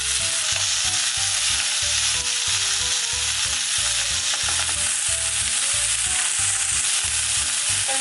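Green beans and chopped boiled carrot stir-frying in a pan, a loud continuous sizzle with rhythmic stirring strokes throughout.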